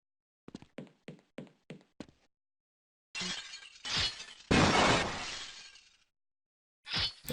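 Glass shattering in a video game map, preceded by a quick run of five sharp, evenly spaced thuds or footsteps, then a loud crash and heavy breaking debris lasting a couple of seconds, close and clear, with a final short burst.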